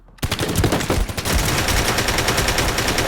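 Rapid automatic gunfire in a video game rattles continuously after a brief quiet start, a loud, dense stream of shots with no pauses and no talking.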